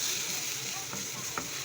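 Spices for chana masala, including turmeric, cumin and paprika, sizzle in a hot pan during a short stretch of steady frying hiss with a couple of faint scraping stirs.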